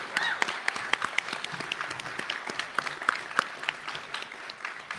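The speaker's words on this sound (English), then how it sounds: "Another round of applause for Strongwater Singers." Audience at an awards celebration applauds singers, a steady wash of many hands clapping with sharp individual claps standing out throughout.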